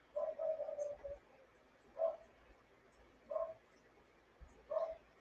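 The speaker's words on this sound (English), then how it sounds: "you can see my neighbor's fabulous dogs are outside again" Neighbourhood dogs bark outside in a yard, heard faint and distant as a quick run of barks followed by three single barks spaced a second or so apart.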